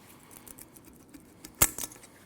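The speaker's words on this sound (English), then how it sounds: "You want to slide these brake pads out like that." Brake pads slid out of a caliper bracket on a 2012-2016 Honda CR-V, a quiet near metallic scrape and clack with two sharp clicks, the louder one first, after a stretch of near silence.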